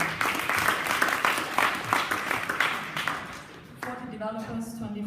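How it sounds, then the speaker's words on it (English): An audience at a hackathon prize handover claps together in a dense, steady burst of applause, with a voice talking near the end as it fades. "So big applause"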